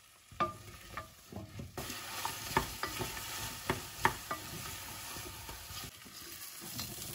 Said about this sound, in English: It says to cook these apples for 2 minutes.